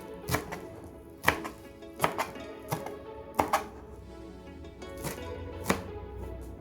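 A knife chops celery on a cutting board in sharp, irregular thuds, roughly a dozen close, distinct strikes with brief pauses between them.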